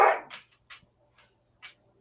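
A dog gives a few short, sharp barks spaced apart, starting with a louder burst and then three quieter single barks in a quiet room.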